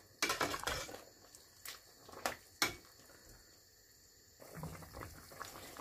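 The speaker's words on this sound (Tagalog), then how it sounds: "Ito na, kumukulo na." A pot of kinamatisang baboy, pork soup with tomatoes and peppercorns, comes to a boil: a soft bubbling simmer with a few sharp clinks of the pot, quiet and close, with no talking.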